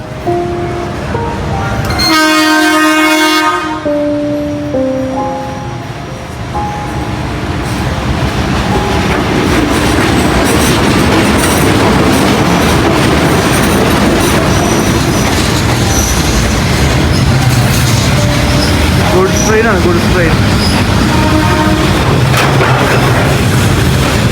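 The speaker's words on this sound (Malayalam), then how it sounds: "അങ്ങനെ നമ്മളെവരും കാത്തിരുന്ന ട്രെയിൻ എത്തി" A train arrives and passes along Hanoi's narrow train street, opening with a loud multi-tone horn blast, then a close, continuous roar of wheels, clattering carriages and squealing rails.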